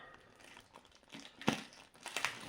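Tape and plastic packaging on an Alpicool TAW45 cooler cover crinkle and crackle while being unwrapped, with a sharper crunch near the middle and another near the end, fairly quiet and close.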